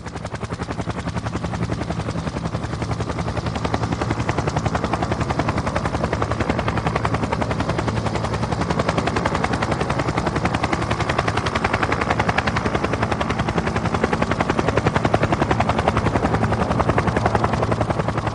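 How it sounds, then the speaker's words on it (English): Steady, loud police helicopter rotor thudding continues throughout with a dense mechanical roar and no pauses. "Modern police helicopters can respond to incidents very quickly"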